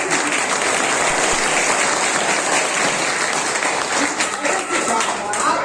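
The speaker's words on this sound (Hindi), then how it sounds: "इसलिए मैं इन शिक्षकों के लिए आपसे चाहूंगा कि जोरदार ताली से इनका स्वागत करें।" A school audience at an Ambedkar birth anniversary celebration gives loud, steady clapping to welcome teachers. The dense applause holds throughout with a few sharper claps standing out near the end.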